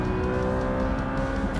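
Audi 4.2 V8 engine heard from inside the car, a loud steady droning rev during a heel-toe downshift, sustained with no pauses.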